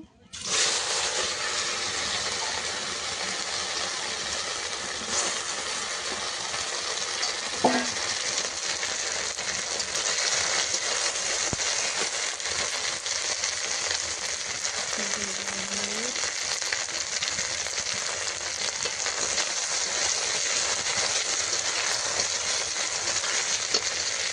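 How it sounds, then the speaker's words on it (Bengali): Boiled taro (kochu) pieces fry lightly in hot oil in a pan, a steady close sizzle that starts abruptly and holds for the whole stretch, with an occasional spatula scrape. "এই যে আমি কচুগুলো ভেজে নেব।"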